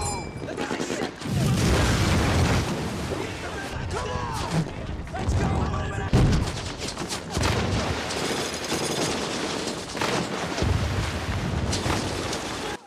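Scattered rifle and machine-gun fire in a World War II battle scene from the TV series Band of Brothers, sharp cracks mixed with crashes and rumbling, with someone talking over it.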